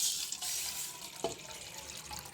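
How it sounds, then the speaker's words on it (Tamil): Water is added to a cooking pan while preparing a sweet agar-agar dessert, heard as a steady, fairly close wash of running, splashing water with a brief drip or splash partway through and no talking. "இப்போ அதே சட்டியில் நம்ம தண்ணி சேர்த்துக்கிறோம்."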